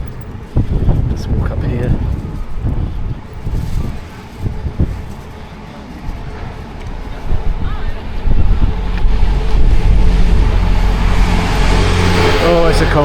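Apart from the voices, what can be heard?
cold wind on a city street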